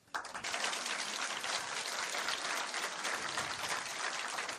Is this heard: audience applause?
yes